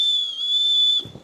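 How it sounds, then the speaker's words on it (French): A whistle built into a camera backpack strap gives one sustained, piercing, high tone lasting about a second, then cuts off into a couple of soft low thumps. "Donc, si besoin, vous avez juste à siffler."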